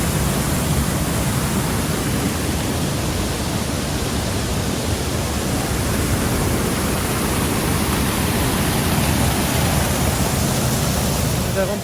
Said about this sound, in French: On arrive finalement à une première cascade.